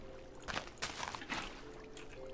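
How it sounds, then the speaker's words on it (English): Soft splashes of water source blocks being placed in Minecraft, three or four brief faint pours and trickles in quick succession. "we're going to put water source blocks"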